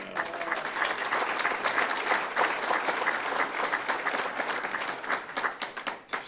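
Warm audience applause for the re-elected RTA Board Chairman rolls on steadily from a crowd at an indoor event, then thins into scattered, tapering claps near the end.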